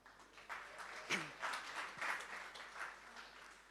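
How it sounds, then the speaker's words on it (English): An audience at a quiz session at the Godrej Innovation Center in Mumbai claps briefly, a soft, fairly distant patter of hands that swells and fades, with a faint voice or noise in the background. "So we'll give a round of applause to Prasanna because he's close to the answer."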